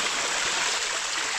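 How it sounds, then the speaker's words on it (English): Water rushes steadily down a creek in a canyon after rain, a close, continuous broadband flow with no pauses or voices. "there's a fair amount of water in the creek"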